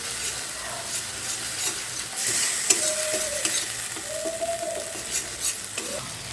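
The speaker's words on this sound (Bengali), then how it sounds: "মশলাটাকে আমি এখানে ভালোভাবে কষিয়ে নেব" Spice masala for a rohu fish curry is sautéed in oil, with a soft continuous sizzle under slow spoon strokes scraping the pan close up and no one speaking.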